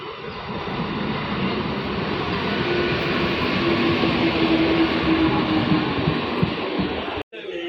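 A train pulls into Bishwapara Kodalia station, a dense continuous rumble of wheels and carriages filling the scene, loud and steady throughout with a faint drawn-out tone midway and a brief dropout near the end.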